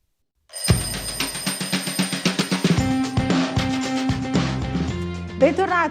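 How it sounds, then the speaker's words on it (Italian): Telephone ringing for an incoming call in an Italian morning radio studio in Trieste, rising out of silence with repeated loud trill bursts over a musical jingle bed. "abbiamo subito una telefonata in attesa"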